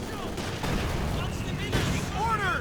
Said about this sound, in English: Machine gun, it should be able to pin these riflemen pretty soon.